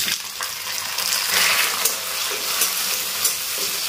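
Tomatoes tipped into a pan of fried onions set off a steady, close sizzle with bursts of stirring and crackle. The sound holds strong and unbroken for a few seconds, and nobody speaks.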